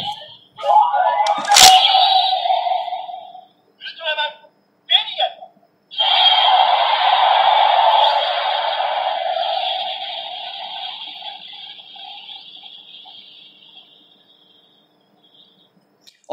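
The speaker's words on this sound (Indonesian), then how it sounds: "seperti itu suara perubahan dari Ultraman Belial" Electronic transformation effect from an Ultraman Geed Riser toy summoning Ultraman Belial, a sharp burst followed by short beeping chirps and then a long bright tone that slowly fades, fairly close and loud with no talk over it.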